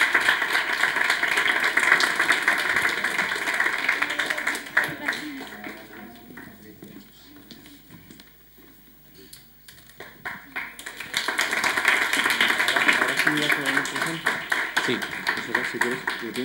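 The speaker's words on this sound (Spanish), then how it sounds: "Un aplauso para Patricia." Audience clapping at a Christmas greetings contest award ceremony, bursts of applause at the start and again toward the end, with a quieter stretch of talk and room noise between them.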